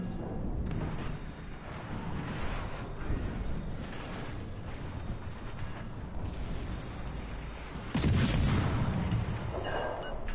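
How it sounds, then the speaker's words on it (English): Naval combat in World of Warships Legends, with torpedo hits and gunfire from Tier III British ships. Rumbling booms and blasts roll on continuously, and a heavier, louder burst of impacts comes late. "Oh, we're gonna get some torpedo hits on this sucker."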